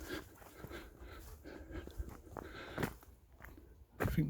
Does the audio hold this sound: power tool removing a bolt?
no